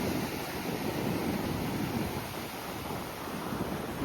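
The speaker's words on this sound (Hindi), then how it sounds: "यहाँ है बे ऑफ बंगाल, दूर दूर तक बस पानी ही पानी।" Sea waves of the Bay of Bengal washing onto a beach, a steady, dense wash of surf with some wind buffeting, continuous and fairly close, with no voices.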